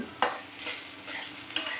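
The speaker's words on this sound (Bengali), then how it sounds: "আবার একটু আলুগুলো ভেজে নিচ্ছি" Potatoes fry in a pan with turmeric and slit green chillies, with a few soft spoon scrapes and a low sizzle, quiet and close.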